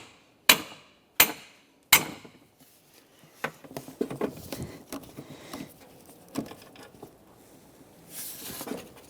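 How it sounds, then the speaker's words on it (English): Small hammer tapping a fan clutch loose on a 2004-2008 Ford F-150 with a 5.4L V8: three sharp, isolated metallic strikes spaced evenly, followed by a looser run of lighter knocks and clatter from working on the fan. "use a small hammer to tap the fan clutch out of place"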